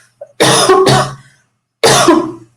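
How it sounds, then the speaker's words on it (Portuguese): A woman has a coughing fit during a math lesson: three harsh, close, loud coughs in quick succession after a brief throat catch. "me deu um acesso de tosse aqui"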